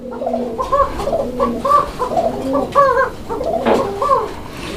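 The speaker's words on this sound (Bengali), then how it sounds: "একটা কোকা কবুতরের জোড়া দেখাইতেছি তো ব্যাপারটা হচ্ছে যে কোকাগুলো ভরপুর ডাকে" A pair of Koka pigeons cooing close by, repeated rolling coos in a steady rhythm that continue throughout, loud and clear with no talking.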